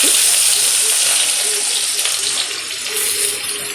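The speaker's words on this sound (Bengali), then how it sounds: "তেলের মধ্যে চারখানা শুকনো লঙ্কা করে নিয়েছি দিয়ে এবার একটা আলুগুলো দিয়ে হলুদ দিয়ে দিয়েছি দিয়ে আলুগুলো ভাজতে দিচ্ছি" Potatoes with turmeric fry in oil alongside four dried red chillies, a loud, close, steady sizzle and hiss that eases slightly toward the end, with no one speaking.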